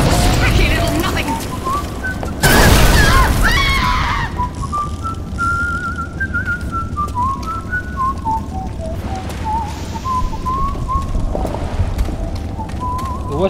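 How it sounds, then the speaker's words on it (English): Melodic whistling drifts through the Bioshock game soundscape, a wavering tune of rising and falling notes that runs for several seconds after a brief loud burst, over a low ambient rumble. "The whistling's a little disconcerting"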